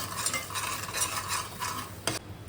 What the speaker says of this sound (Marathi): आता हे सगळं आपण प्रॉपर मिक्स करून घेऊया.